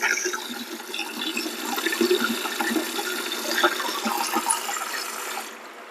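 Water gushes strongly and steadily from a water filter faucet being repaired, a broad continuous rush fed by the mains supply that holds for several seconds before cutting off abruptly near the end.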